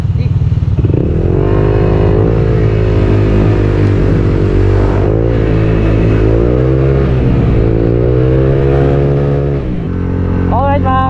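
A Honda Click 160 scooter fitted with a new RS8 torque drive and CVT tuning accelerates hard on a test ride, its loud engine drone rising and wavering steadily throughout, with voices briefly heard near the end.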